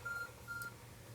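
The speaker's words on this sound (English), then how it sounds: "another suspicious phone call" Phone call chime in the video game Pokémon Legends Arceus: two short, bright electronic tone bursts in quick succession, fairly faint over a steady low hum.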